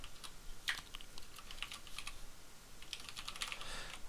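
Typing on a computer keyboard during a Java programming lesson: a steady patter of light key clicks, fairly faint and close, with a couple of sharper taps and no talk.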